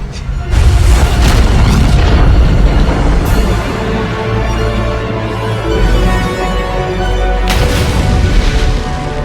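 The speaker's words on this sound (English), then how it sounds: "the explosions" Explosion on the Bumblebee film set, heavy booming blasts with a deep rumbling roar that stays loud and dense, with sharp fresh bursts erupting near the start and again later.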